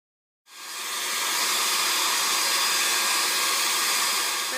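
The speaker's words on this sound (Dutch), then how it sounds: "Ga ik op dezelfde manier föhnen als dit." A hair dryer switches on abruptly and keeps up a loud, steady hiss as it blow-dries hair, with no break in the airflow.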